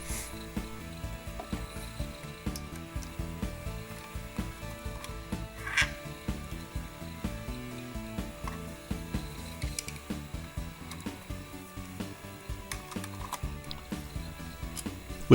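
Steady creaking and clicking of a screwdriver turning screws out of the wooden stock of a Winchester Model 77 rifle, close and fairly quiet, with repeated small ratchet-like ticks and no talking.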